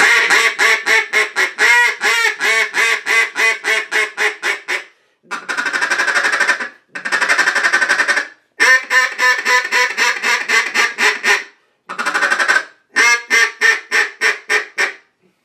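A short wooden mini duck call from FTF Calls is blown, sending out loud, close strings of rapid nasal quacks in bursts separated by brief pauses.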